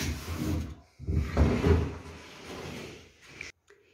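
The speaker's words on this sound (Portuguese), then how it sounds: "Uma porta de correr para entrar na minha sala." A newly installed wooden sliding door to a living room rolls along its track with a rumbling, scraping glide, pausing briefly before continuing, then ending in a sharp knock as it stops.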